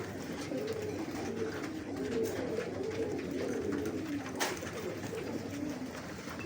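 Pigeons coo softly and repeatedly while feeding on grain in a bird loft in Lahore, a low steady murmur of birds with no talk.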